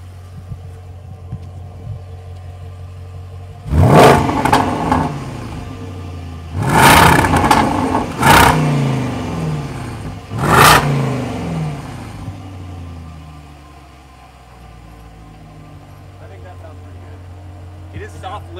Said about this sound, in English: I'll just give it a bit of a rev in dynamic mode